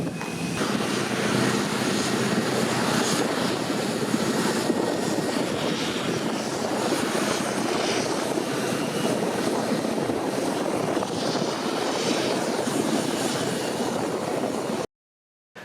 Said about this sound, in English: as they prepared for the arrival of the American Airlines direct flight from Miami